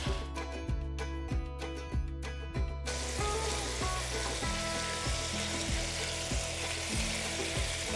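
Pork burgers sizzle steadily in a frying pan, a loud continuous crackle with regular low thumps from music playing in the background.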